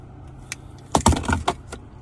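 Two car keys for a used Hyundai Sonata jangling, a short burst of bright metallic clinks and rattles close by, preceded by a few faint taps.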